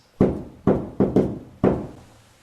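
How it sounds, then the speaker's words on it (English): Knocks sound on a wall, four solid, hollow raps in an uneven rhythm with two of them close together, each thudding clearly and fading quickly in a quiet indoor space. "knock back for me, please"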